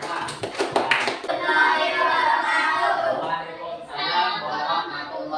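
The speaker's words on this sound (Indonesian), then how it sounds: "Kita kasih tepuk tangan yang meriah untuk kelompok 2" Students clap loudly for a group presentation in a classroom, a dense, close burst of hand clapping that sustains for several seconds with some chatter and voices mixed in.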